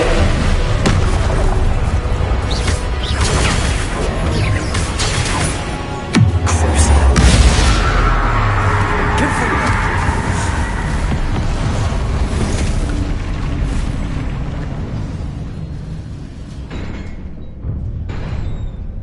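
A Confringo spell explosion in the Hogwarts Legacy video game bursts as one loud, deep boom with a crackling rush, then trails off into sustained rumbling game ambience.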